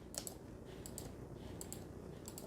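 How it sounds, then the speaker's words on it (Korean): Faint, sharp clicks come in small clusters at irregular intervals over a steady low rumble of a taxi in Italy, like a mouse button pressed by the driver's left hand below. "이 마우스 소리처럼 뭔가 달칵 하는 소리가 들려."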